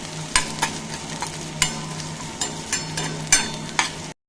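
Ingredients for a chutney frying in oil in a pan, with a steady close sizzle broken by sharp clinks of a spoon stirring at irregular intervals.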